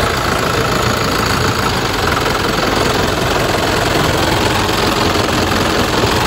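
Reconditioned M50 truck engine idling steadily up close, a loud continuous diesel-like rumble with knocking texture and constant vibration, no speech.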